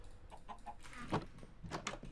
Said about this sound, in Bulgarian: живеем с кокошка